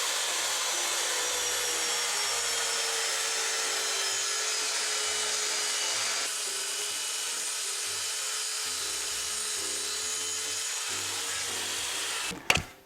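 Steady high-pitched whine of a power saw cutting a bilaminated MDF back panel for a wall niche, continuous and close for about twelve seconds, ending with a brief louder clatter.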